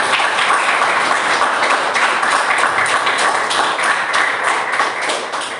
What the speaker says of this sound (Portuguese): Você que pode, aplauda o Senhor.